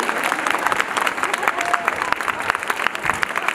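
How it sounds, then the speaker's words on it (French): Audience applause fills a hall at the Galeries Lafayette centenary celebration in Strasbourg, steady dense clapping from a crowd for a full few seconds with murmured voices mixed underneath. "Allez, on peut l'applaudir."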